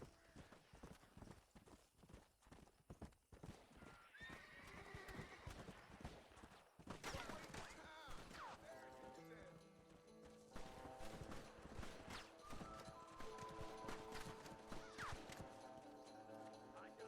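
Horse hooves clip-clop at a gallop in the Western video game Red Dead Redemption, several horses drumming rapidly and continuously, with occasional whinnies and louder bursts of hoofbeats midway.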